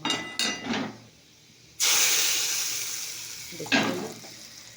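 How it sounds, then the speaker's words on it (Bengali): Bay leaves and whole spices frying in a wok (kadai), with a loud sudden sizzle bursting up mid-clip and tapering, between short clattering stirs; a brief spoken word is heard. "তো এটাকে কড়াইতে আমি ভেজে নিচ্ছি"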